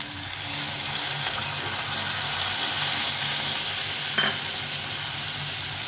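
Masala paste for a green rohu fish curry sautés in a pan, making a loud, steady sizzle and crackle throughout, with one brief clink of a utensil near the end.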